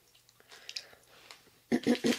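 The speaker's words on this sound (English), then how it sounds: "I hope you enjoy the eating sounds." Crunchy snacks being bitten and chewed close up in a binaural eating session, three loud crisp crunches near the end after a quiet stretch.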